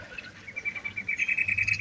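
Caged sambyong birds sing inside a bird shop, a rapid run of high chirping notes that grows louder and more insistent over a couple of seconds.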